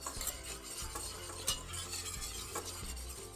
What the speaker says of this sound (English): And you'll see as you're whisking it, it's going to thicken kind of as you go.